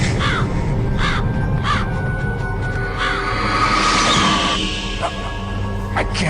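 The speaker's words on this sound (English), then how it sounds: "Wait, you're listening to the birds?" Raven cawing from a video game, a few harsh repeated calls heard over a dense game soundtrack and ambient noise, fairly loud and close.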